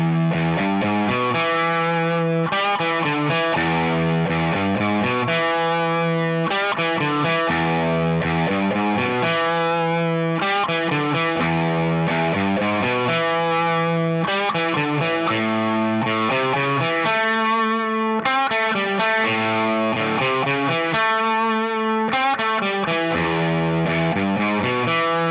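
A distorted electric guitar plays a riff, a loud, steady repeating pattern of chugging notes with no voices over it.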